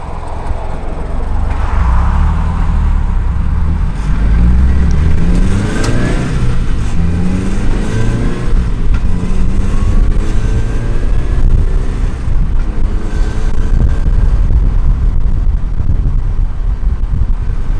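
Manual-transmission car on a test drive with an exhaust leak in the front pipe, engine revving up and down through gear changes amid wind buffeting; a distinct rattle is not clearly separable from the engine noise.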